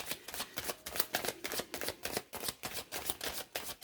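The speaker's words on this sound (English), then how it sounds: "Another shuffle." Tarot cards are shuffled in quick, crisp riffling bursts, a close rhythmic flutter repeating throughout.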